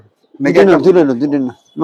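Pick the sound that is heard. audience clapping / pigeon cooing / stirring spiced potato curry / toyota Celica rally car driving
pigeon cooing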